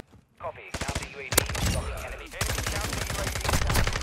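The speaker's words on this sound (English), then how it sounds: "That's why I love this gun, 50 bullets. It's like a P90." Rapid automatic fire from a 50-round submachine gun like a P90 in Modern Warfare 2, loud sustained bursts with brief gaps, shots rattling in a fast even rhythm close up.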